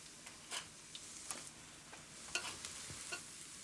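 Potato latkes frying in oil in a pan give a faint, scattered sizzle with light crackling pops and ticks spread across a few seconds, with no voices over it.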